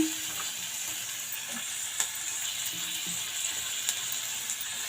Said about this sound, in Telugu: ఇవి కూడా బాగా వేపేసుకుందాం అన్నీ బాగా వేగాలి